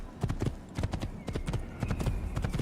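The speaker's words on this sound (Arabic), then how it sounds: "الله في حصان اهو" A horse's hooves clip-clop in a video game, a steady brisk rhythm of paired close hoofbeats repeating throughout.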